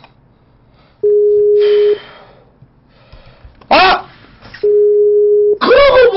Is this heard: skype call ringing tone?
yes